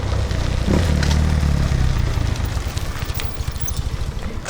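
A BMW R90S motorcycle cruising at 140 km/h, a loud, steady engine drone with a deep, rhythmic rumble, with wind noise over it.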